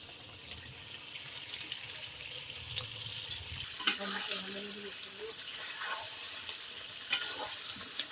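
Potatoes tumble into a pan of frying meat curry and get stirred, a soft sizzle with scraping spoon clatters and a few sharp knocks against the pot, close by.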